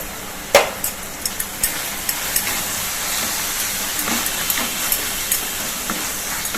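Turmeric, coriander and Kashmiri chili powder roast in a pan for a bottle gourd curry, giving a steady close hiss punctuated by regular light taps and knocks of a spoon against the pan, with no talk.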